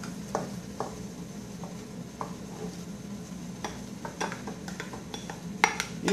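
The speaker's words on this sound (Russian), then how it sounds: "И выкладываем туда вот эту смесь овощей и грибов." Mixed vegetables and mushrooms tipped into a multicooker with chicken fillet, soft stirring and scraping with scattered metallic clinks of a utensil against the pot over a low hum.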